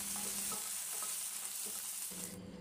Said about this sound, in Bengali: এবার হালকা ফ্রাই করে নিচ্ছি।